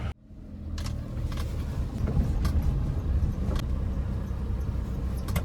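A car creeps into the covered space of a house. Its engine rumbles low and steady close by, with faint clicks and knocks over the hum and no talking.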